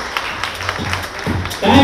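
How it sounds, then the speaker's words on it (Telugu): Audience applause breaks out at the Jubilee Forema 2019 fashion show, swelling louder near the end while a voice speaks over the crowd. "అందరూ కూడా మా స్టూడెంట్స్కి ఫ్యాకల్టీకి స్టాండింగ్ ఓవేషన్ ఇచ్చి ఒక్కసారి క్లాప్స్ కొట్టాలని అనిపిస్తుంది"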